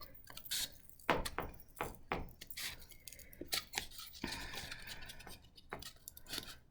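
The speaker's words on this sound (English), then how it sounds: "I would suggest using very strong scissors. These are fabric scissors." Fabric scissors snip repeatedly through sponge, close up, with a string of sharp, crunchy cuts in an uneven rhythm.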